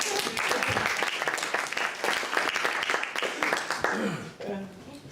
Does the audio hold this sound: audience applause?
yes